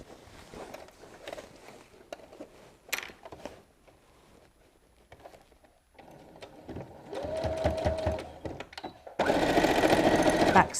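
A sewing machine stitches a tote bag seam and reverses to back stitch, short bursts of close mechanical whirring after quieter handling sounds, growing louder toward the end.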